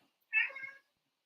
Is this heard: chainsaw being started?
no